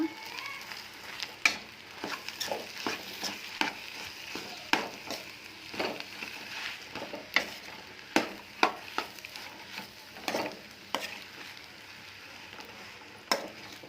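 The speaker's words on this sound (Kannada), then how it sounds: "ಈಗ ಸ್ವಲ್ಪ ಇದನ್ನು ಚೆನ್ನಾಗಿ ಮಿಕ್ಸ್ ಮಾಡ್ಕೊಳ್ಳೋಣ" Mashed potato and salt being stirred in a frying pan for a potato palya, with steady sizzling and repeated scraping strokes of the spoon against the pan, close and moderately loud.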